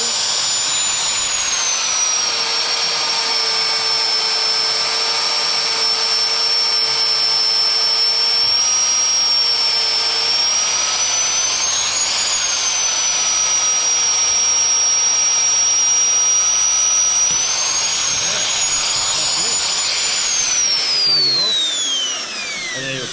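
A magnetic drill bores holes in metal in a welding workshop, a loud, steady high motor whine held for over twenty seconds under a constant grinding roar, then spinning down at the end.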